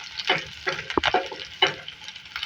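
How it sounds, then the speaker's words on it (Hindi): Two medium onions and green chillies fry in a pan, with a soft crackling sizzle broken by several sharper stirring scrapes and clinks, close and clear, with no talking. "आप देख सकते हैं यहाँ पे प्याज जो है फ्राई हो गई है।"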